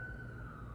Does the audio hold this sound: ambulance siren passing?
yes